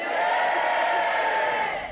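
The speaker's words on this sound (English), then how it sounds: "we have a full studio here of loyal supporters to cheer on their team members" A full TV studio audience of loyal supporters cheers loudly for team members on a 1993 ITV programme, a sustained roar of crowd voices with no break.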